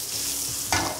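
Chunky carrots, onions and celery sizzle in a hot pan, a steady frying hiss with a louder burst near the end as the vegetables are stirred or added, for a goose stuffing.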